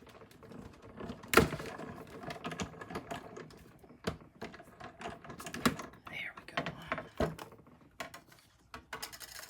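Card stock for a two-tone Christmas card cranks through a manual die-cutting machine, giving a faint run of irregular clicks, ratcheting taps and soft mechanical rattles close by.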